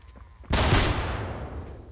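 A sudden loud explosion in the VR shooter Death Horizon: Reloaded, a single sharp close blast that bursts out and then decays into a rumbling tail over about a second.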